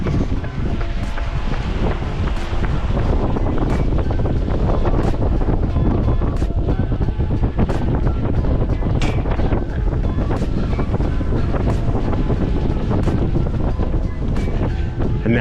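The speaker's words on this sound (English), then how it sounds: "It's a bit windy, so I don't know if you can hear me very well" Strong wind buffets the microphone on a seaside run, a loud, continuous roaring rumble that fills the whole stretch with constant gusting noise and no clear voice above it.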